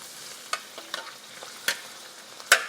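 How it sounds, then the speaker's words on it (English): Tomatoes sautéing in a pot for a spinach rice and crab one-pot dish, a light sizzle broken by several crisp spoon scrapes and taps, the last one loudest. "Now you want to go ahead and drop the tomatoes"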